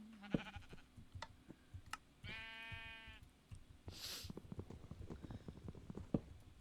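A sheep bleating in the Minecraft video game, one wavering bleat standing out over faint footsteps and game ambience.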